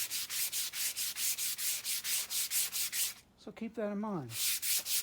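Sandpaper, 120 grit, rubbing back and forth on a large wooden spoon in a steady rhythm of loud, close, rasping strokes, broken by a short spoken remark before the sanding resumes.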